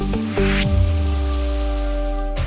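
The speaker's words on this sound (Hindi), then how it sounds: "बिन मौसम बारिश" Steady unseasonal rain hisses across the whole scene in a TV fantasy show, a dense continuous wash layered under sustained musical tones and a few low swooshing effects.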